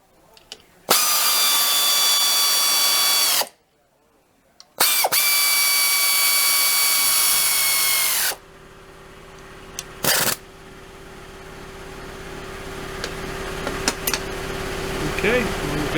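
A power drill drives bolts into BBQ sheet metal in two loud, sustained whirring bursts separated by a short pause, followed by quieter workshop rattles and faint background noise.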